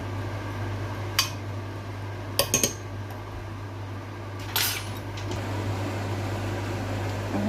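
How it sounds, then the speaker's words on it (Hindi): Aloo matar keema is spooned out of a cooking pot into a serving dish, giving a few sharp metallic clinks and scrapes spaced apart over a steady background hum, with no talking. "अब हम इसको डिश आउट करेंगे।"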